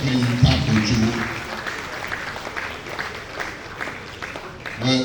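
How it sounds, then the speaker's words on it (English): An audience at a surveyors' association luncheon in Nigeria breaks into steady, full applause lasting several seconds, loud and close, with a voice briefly heard over the clapping near the start. "Please, another round of applause for Tope Kawojo."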